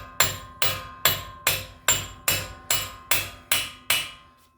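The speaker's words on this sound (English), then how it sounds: "I thump it with a little hammer." Small hammer striking the hub on a 2006-10 Ford Explorer front wheel hub replacement, ten sharp metallic blows at a steady, even rhythm, each ringing briefly before the next, with no talking.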